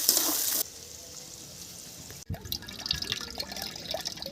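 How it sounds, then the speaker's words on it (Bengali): Gobindobhog rice washed in water in a home kitchen, with close dripping, sloshing and trickling liquid sounds after a brief louder hiss and a short gap. "চালটা ধোয়া হয়ে গেছে"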